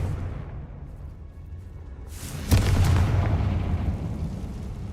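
A Confringo fire spell blasts in Hogwarts Legacy, a single deep boom bursting out midway over a steady low rumble, then a sustained roar that slowly fades.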